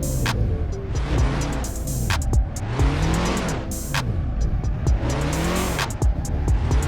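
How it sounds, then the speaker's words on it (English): A big semi truck drifting, its tires squealing in repeated rising and falling howls over a rumbling, revving engine, loud and close with brief bursts of noise between squeals. "Let's try drifting through this little part here"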